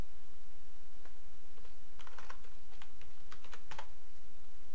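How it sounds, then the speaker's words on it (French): A password is typed on a computer keyboard during a Manjaro Linux install, in short quick bursts of keystrokes over a constant background hiss. "En évitant de taper le mot de passe incorrectement"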